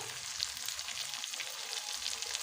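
Ghugni with salt and turmeric sizzles in a pan as a soft, continuous hiss at low level, steady and without other sounds.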